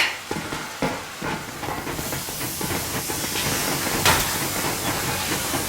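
In Metro Exodus, a steam train pulls away with loud, continuous hissing steam over rumbling and clanking rail noise that swells and stays dense throughout.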